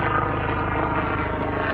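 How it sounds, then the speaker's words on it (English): Helicopter flying overhead above a creek trail during a sand bass fishing run, a steady loud rotor drone filling the short stretch without pause. "Got a helicopter up here."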